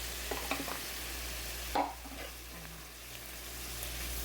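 A tablespoon of all-purpose flour is stirred into creamy chicken and mushrooms in a pan, with soft scraping strokes and a louder clack of the utensil over a faint, steady sizzle.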